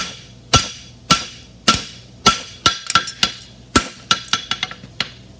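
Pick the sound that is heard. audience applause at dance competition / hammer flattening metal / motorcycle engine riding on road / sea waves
hammer flattening metal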